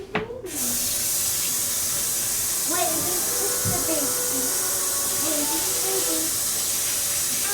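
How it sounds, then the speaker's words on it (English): Water poured from a measuring cup into a Ninja Combi cooker, a steady close rushing hiss that runs the whole time beneath a person talking. "I'm going to pour that in there. And then along with 3 cups of water."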